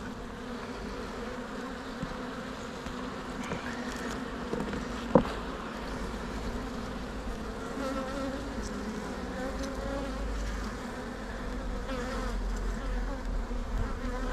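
Honey bees buzzing in an open hive during a spring honey check, a dense continuous hum close by with a light tap partway through.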